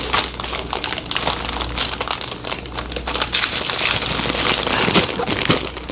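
A plastic freezer bag of cookie dough being zipped shut while air is pressed out, giving a steady close crinkling and crackling of plastic that lasts several seconds with no talk.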